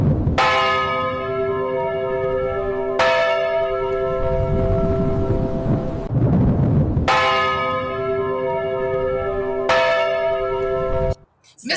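A church bell tolls from a bell tower: four loud, resonant strikes about three seconds apart, each ringing out with a long sustained hum before the next.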